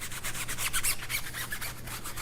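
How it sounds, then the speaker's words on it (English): Stiff tire brush scrubbing a car's tires during a winter wash, a steady run of close, rasping back-and-forth strokes with no talking. "Go back in my bucket with my tire brush, right, because I want to have clean tires during the wintertime. Give those a scrub."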